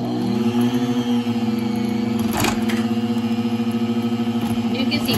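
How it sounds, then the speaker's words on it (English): A blender motor hums steadily as it mixes a low-carb gingerbread cookie batter with stevia, droning continuously and fairly loudly with a voice talking over it. "And I'm going to blend that together really good inside my blender."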